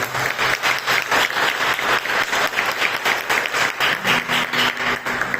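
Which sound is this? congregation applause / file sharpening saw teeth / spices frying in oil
congregation applause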